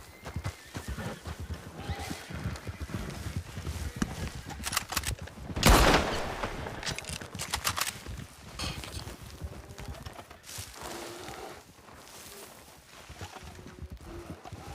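Horse hooves clip-clopping and a whinny in a video game, a busy rhythmic patter with a loud burst of noise midway, under occasional faint voices.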